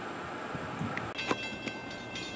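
An eastbound Norfolk Southern freight train rolls past at moderate distance, a steady rumble of wheels on rail with occasional clanks and squeals, no voices.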